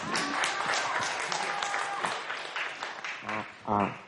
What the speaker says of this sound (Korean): 우리 청소년 인권활동가 어스 힘찬 박수로 맞이해주시기 바랍니다